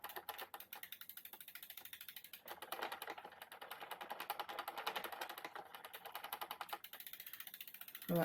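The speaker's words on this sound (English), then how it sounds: "we got a ratchet. You hear the ratchet?" The freehub ratchet on a Planet X Viner bicycle clicks in fast, even runs, close and crisp, speeding up and slowing as the wheel spins.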